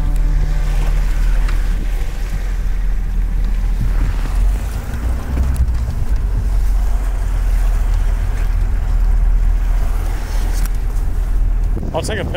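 A boat runs fast over open water, with a steady loud low rumble of engine and hull, wind buffeting the microphone, and splashing throughout; a voice speaks briefly over the noise.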